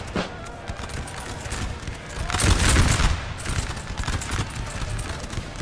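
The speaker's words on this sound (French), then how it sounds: "Les grenadiers qui sont mis au tir" Grenadiers fire musket volleys during an 1812 Russian campaign battle in the strategy game Napoleon Total War III, crackling scattered shots with one louder rolling burst midway, over a busy battlefield murmur.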